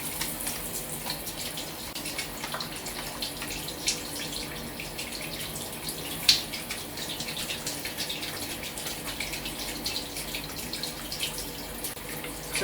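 Shower water runs steadily at close range, a soft continuous hiss with faint splashy variation and one brief louder splash partway through, no voices.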